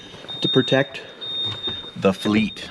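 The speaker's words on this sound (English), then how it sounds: "Sorry about the beeping." A Ford Super Duty truck's alarm gives a steady high-pitched beep as it is being set, heard continuously under someone talking nearby.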